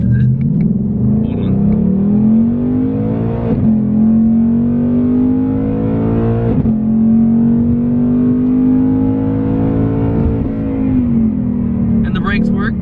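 A loud, close engine drones steadily in the cabin of an 800+ horsepower 2019 Ford Mustang GT with a 10-speed automatic, its pitch climbing through gear changes as it accelerates, while people talk over it.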